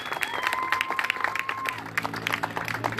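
Audience clapping at the Festival Papalote on Cerro de la Estrella, a lively mix of individual claps in a crowd with a sustained whistle gliding over it and some background voices.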